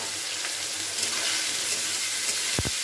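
Eggplant pieces fry in hot oil in a home kitchen, a steady, close sizzling hiss that runs unbroken with a dull knock near the end.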